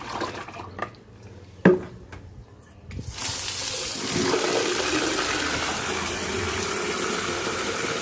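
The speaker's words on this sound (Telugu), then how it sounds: "ఇప్పుడు మనం దీన్ని బకెట్ వాటర్తోని డైల్యూట్ చేసుకుందాం." Water poured into a bucket to dilute homemade liquid fertiliser from kitchen waste: a few knocks and clatters, then a steady loud gushing stream running on continuously.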